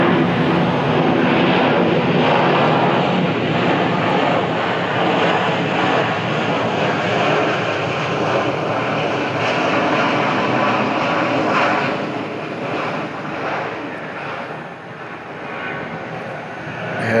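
A Boeing USAF C-32, a military 757 jet, departs Atlanta with a loud, sustained broadband engine roar that fills the whole stretch and eases slightly toward the end.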